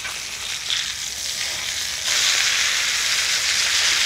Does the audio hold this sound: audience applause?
no